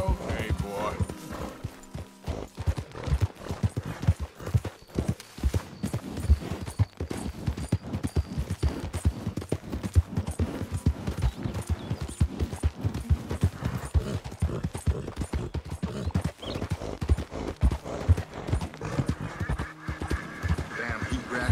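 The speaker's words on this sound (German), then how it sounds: "Pferd." Horse hooves clip-clop at a steady walking rhythm in Red Dead Redemption 2, close and continuous, with someone talking over them and an occasional whinny.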